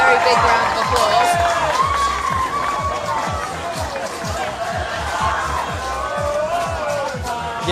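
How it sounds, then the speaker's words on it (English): Large crowd at a creators' charity football match, a steady loud roar with cheering and scattered clapping that lasts throughout, with voices talking over it. "So a very, very big round of applause."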